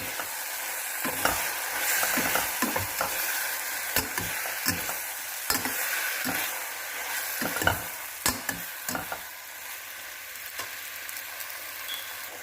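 Mushrooms sizzle in a pot of oil as the base of a biryani is cooked, with a spoon scraping and knocking against the pot in irregular stirring strokes, close by, and no talking.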